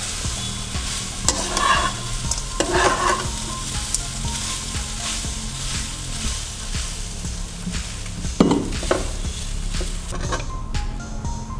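Pepper rice tossed with spice powder in a pan over a low flame, a steady close scraping and stirring over a soft sizzle, with a couple of louder spoon knocks and no talking.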